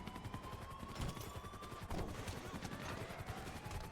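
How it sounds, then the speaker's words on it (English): Dense, continuous gunfire in a video game, rapid overlapping shots in a constant barrage, mid-distance and fairly loud throughout. "We're being shot at."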